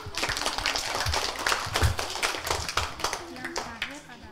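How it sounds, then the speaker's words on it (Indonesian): Children and adults at a kindergarten show clap their hands together in a steady, fairly close burst of claps, with voices talking and calling out over the clapping. "Tepuk tangan"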